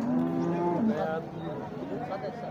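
A cow moos loudly and close at a cattle market, one long drawn-out low call with a rising, wavering tail, over faint background chatter.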